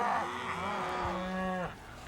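Cattle low on a farm as cows and calves moo, one long, drawn-out moo rising and falling at close range before it cuts off, with no talk.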